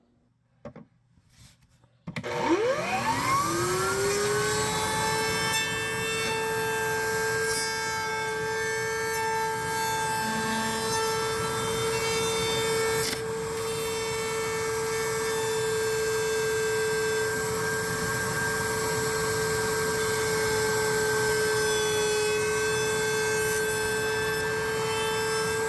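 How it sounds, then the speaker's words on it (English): A router trims a Kydex holster shell for a TLR7 HLX light: after a brief thump, the motor spins up into a steady, loud, high whine with rough cutting noise, held for the rest of the clip. "I'm going to go ahead and throw that in the router"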